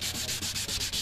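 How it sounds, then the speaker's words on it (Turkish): A car headlight is sanded by hand, giving a close, steady rasping scrub that repeats in quick rhythmic strokes, about eight passes in a second. "İyi bir temizlik istiyorsanız zımpara işlemini çok iyi yapmanız gerekiyor"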